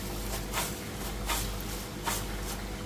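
Crispy fried onions, deep-fried until golden for barista, are stirred in a pan, making soft dry rustling crunches in a few spaced bursts.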